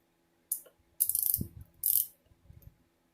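A small ratcheting screwdriver handle from a mini tool kit clicks in three quick bursts of sharp, rapid ratchet ticks, close and clear, separated by brief pauses and light handling knocks.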